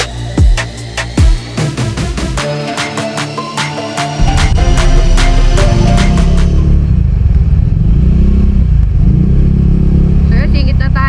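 Motorcycle threading through slow traffic on a lakeside road in Tanauan City, Batangas, with a steady close engine drone and repeated sharp clicks early on, growing louder and rougher partway through.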